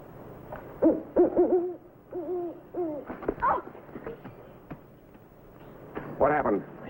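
A man imitates an owl's hoot outdoors in rough terrain, giving several low, wavering hoots in a row, then pausing before a final, louder drawn-out call.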